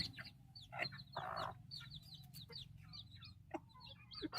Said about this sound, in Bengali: এই মুরগিটা হচ্ছে গলা ছোলা মুরগি বলে।